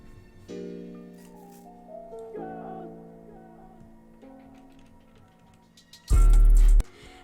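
Vienna Strings 2 preset strings in Purity play sustained, shifting chords in a jazzy plugg beat, the tone opening and closing under filter automation, ending in a short loud full-band burst.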